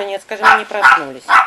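Small Chihuahua puppies at a kennel bark in three sharp, high yappy bursts, close and loud, with a person talking over them.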